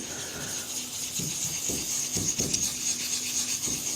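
A small Nagura stone is rubbed back and forth across a wet 6000 grit whetstone while sharpening a handmade bushcraft knife. It makes a close, gritty scraping in short repeated strokes over a constant high hiss.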